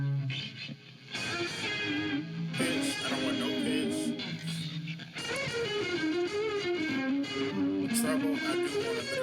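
A crunch distortion effect on a church band multitrack gives a gritty, saturated tone under a full mix of sustained melodic instruments, with a voice speaking briefly over it.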